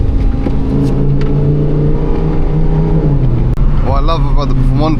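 Lamborghini Huracan Performante engine droning steadily from inside the cabin while driving through central London, then rising in pitch as it revs, with someone talking over it.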